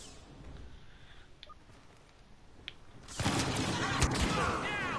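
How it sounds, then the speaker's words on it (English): A scatter gun firing in Star Wars Battlefront, with loud blasts breaking out after a quieter stretch with faint distant shots, then sustained gunfire to the end. "Scatter gun."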